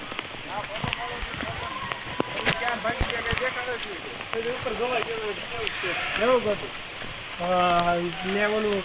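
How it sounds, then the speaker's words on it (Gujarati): Light drizzle falls at the Jata Shankar Mahadev temple, a soft, continuous patter under steady nearby talking. "ઝીણો ઝીણો વરસાદ ચાલુ છે જોઈ લ્યો"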